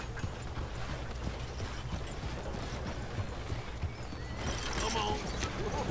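Horse hooves clip-clopping in a video game, a steady rhythmic trot under low background noise that continues through the clip, moderately close.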